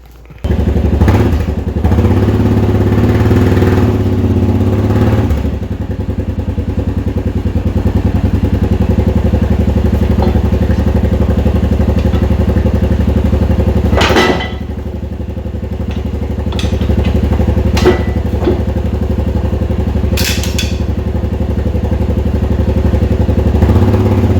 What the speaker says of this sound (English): I'll pull the four-wheeler ahead some, pull some of that tension out